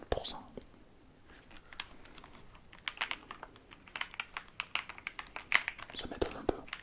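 Fingers tap on a 60% computer keyboard in a quiet ASMR-style office. Soft scattered clicks build into a faster, denser run of crisp keystrokes, with whispering throughout.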